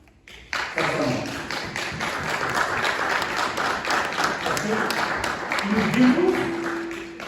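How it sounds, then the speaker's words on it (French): A church congregation applauds for God during a sermon, sustained crowd clapping that fills the space evenly, with voices and cheering mixed in underneath. "J'aimerais sincèrement qu'on applaudisse pour notre Dieu."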